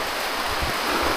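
River water rushing steadily during a river crossing on a rainy mountain trek, a loud continuous wash of flowing water with no voices.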